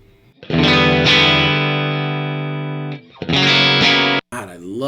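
Telecaster on its bridge pickup through a Suhr PT100 amp at the edge of breakup: two loud, ringing, lightly distorted chords sustain near the mic, followed by a quick bent note.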